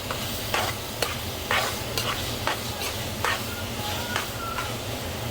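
Leafy greens fry in a pan with a steady close sizzle, while a utensil scrapes and stirs in repeated sharp strokes about every half second.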